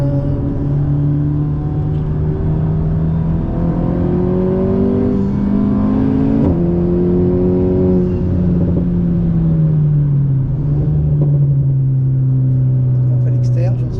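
An Alpine race car engine pulls hard on the Bugatti circuit, heard from inside the cabin as a loud, continuous drone that climbs in pitch, dips briefly and rises again, with a voice speaking over it.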